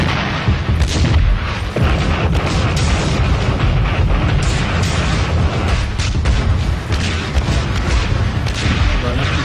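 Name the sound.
artillery fire explosions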